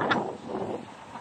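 Strong wind on Bantayan Island buffets the microphone in a steady broadband rush with gusty swells, loud and close, with no other sounds standing out.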